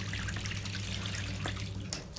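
Water runs steadily from a thermostatic bath tap, a soft continuous splash and trickle at low volume, with a few faint drips and knocks.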